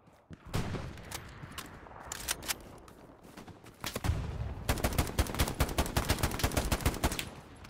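Gunfire in a shooter video game: scattered single shots and short bursts, then a pause for reloading, followed by sustained rapid firing, loud against a quieter background.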